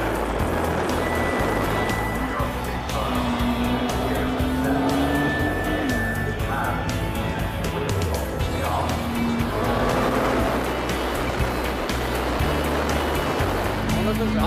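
A Nissan GT-R Spec V in Gran Turismo 5 drives a country road at Goodwood, its engine note rising and falling through gear changes over a steady loud road and wind roar, with no talking.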